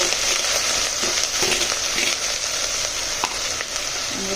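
Spice powder and ginger-chilli paste sautéing in a pan for a ridge gourd and chana dal dish, a steady close sizzle with faint scraping stirs and light clinks throughout.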